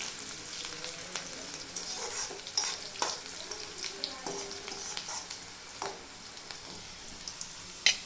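Onions fry in a pan for a potato and pea vegetable dish, browning to a reddish colour, with a soft steady sizzle broken by frequent scraping stirs and spoon taps close by.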